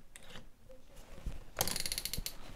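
A drill chuck is unscrewed and tightened by hand, giving a string of close mechanical ratcheting clicks that grow louder and denser in the second half, with no talk.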